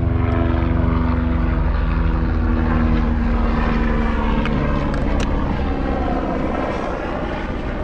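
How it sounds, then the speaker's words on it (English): A helicopter passes overhead, a loud, steady engine and rotor drone that fills the whole span and eases off slightly toward the end, with no talk. "I'm gonna wait for this helicopter to go past"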